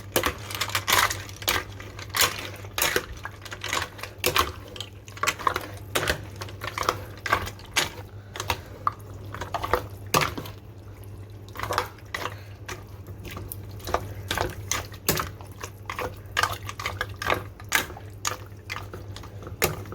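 A spoon clatters and scrapes steadily in a pot as pasta and vegetables are stirred together for a one-pot vegetable pasta. Close, busy clinking knocks repeat throughout over a low steady hum.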